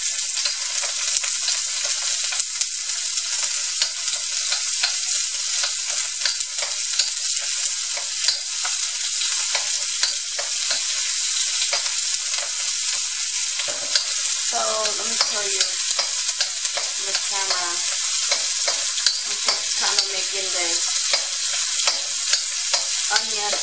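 A single piece of garlic fries in hot oil in a pan, giving a bright, steady crackling sizzle that stays loud and close for the whole stretch, with occasional stirring scrapes and no talking.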